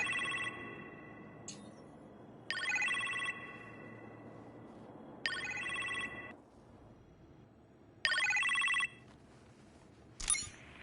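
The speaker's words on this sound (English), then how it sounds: "You appear to have a phone call in the kitchen, sir." Telephone ringing in a kitchen in the Iron Man VR video game: four bursts of bright, trilling electronic rings, each lasting under a second, spaced a few seconds apart. A short partial ring follows, over a low ambient hum.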